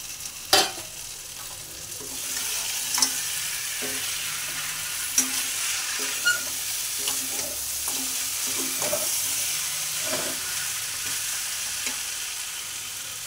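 Fried fish head and bones sizzle in a pan with rice for mori khanto, a steady hiss with scattered stirring clicks and scrapes over roughly thirteen seconds, close by and without speech.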